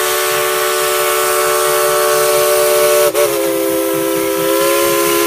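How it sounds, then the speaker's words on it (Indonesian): A toy Thomas train gives a continuous, loud, hissing steam whistle that holds one steady pitch, with a brief dip in the middle before it carries on. "Di sini ada kereta api Thomas."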